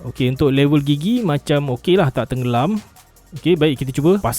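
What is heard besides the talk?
No everyday noises stand out.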